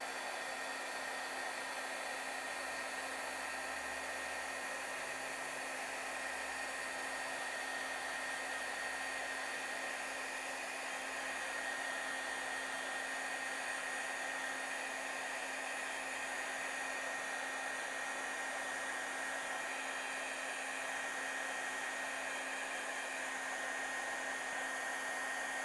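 A heat tool blows hot air steadily over embossing powder on a Christmas card, a continuous whirring hiss that stays loud and unbroken throughout with no talking.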